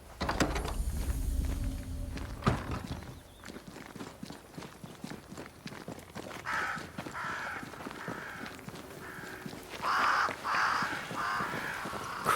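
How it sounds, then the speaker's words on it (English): Crows caw repeatedly in the video game Banishers: Ghosts of New Eden, the calls rising in bursts over footsteps and ambient game noise, moderately near and loud without speech. "Crows. They flock to that great tree up there."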